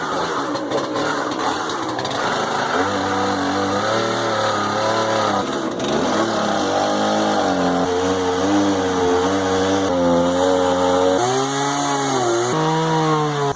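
An old-fashioned chainsaw cuts off the wooden support posts of a sawmill platform during a teardown, its engine revving loud and close, with pitch rising and dipping under load for the whole stretch.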